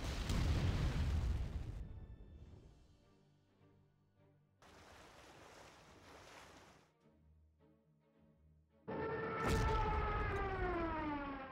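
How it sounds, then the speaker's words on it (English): Bombing explosions and wartime sound effects from the Panzer Corps strategy game, heard as loud bursts in separate sections with a rising siren-like wail near the end, with no talking. "Bombing you from behind."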